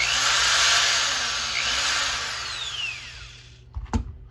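A corded electric drill whirs loudly and steadily, spinning a furnace duct-cleaning setup in a garage, its pitch slowly winding down before it stops, followed by a couple of sharp knocks and clatters.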